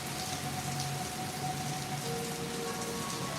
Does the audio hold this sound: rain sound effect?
yes